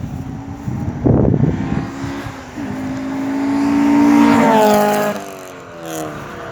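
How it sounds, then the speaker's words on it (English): Cars rush past on a road in gusty wind, one vehicle swelling loudly as it approaches and fading away, with wind buffeting throughout and a rumbling bump near the start. "I like the sounds of the cars rushing by."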